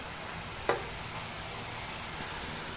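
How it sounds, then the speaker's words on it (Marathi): Beet and carrot mixture stirred in thickening sugar syrup for laddu, with a soft continuous sizzle and one brief scrape or clink of the spoon against the pan. "हा पाक छान घट्ट होईपर्यंत आपल्याला हे अशाच प्रमाणे परतून घ्यायचं आहे"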